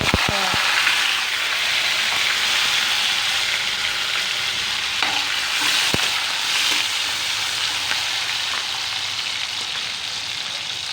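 Onion, green chili and shahi jeera fry in a pan for a masala brinjal curry, a broad steady hiss like rain with a few sharp clinks near the start.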